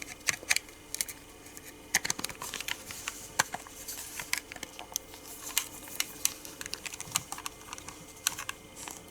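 Buttons pressed one after another on the rubber keypad of a Sony pocket radio, a dense run of small soft clicks and taps close to the microphone, irregular and fairly quiet, with no voice.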